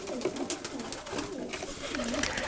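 A young pigeon gives soft, immature coos in repeated short phrases, close by, with steady low background noise around it.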